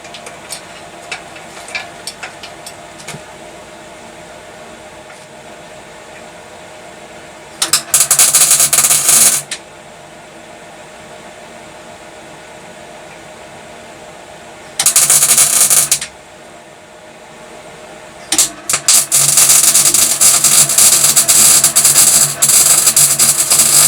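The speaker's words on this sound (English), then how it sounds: "I'm going to have a go at welding up along here" MIG welding on a motorcycle frame bracket during a shed-built bobber restoration: three loud crackling buzzing bursts of a few seconds each, the last longest, separated by quiet spells with small clicks and tool taps.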